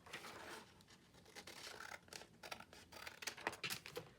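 Scissors trim a reused paper mail envelope, giving a run of close, quick snipping and scratchy paper strokes that grow a little louder toward the end, with no talking.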